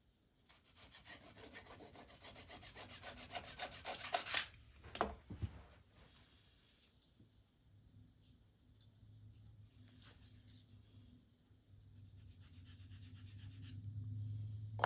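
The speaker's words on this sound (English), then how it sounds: "Make this cut and then sand on it about 500 times to get it right." Balsa wood being cut and then sanded for the horizontal stabilizer of a Carl Goldberg Ultimate 10-300 model biplane. It starts with steady rapid rasping, then a few knocks, then softer, slower rubbing strokes close by, with no talking.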